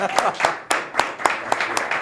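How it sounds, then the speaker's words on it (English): Rhythmic, evenly spaced clapping at a New Mexico Runners press conference announcing a head coach, a few hands beating about four times a second, close and moderately loud with voices underneath. "Can we clap it up for Andres?"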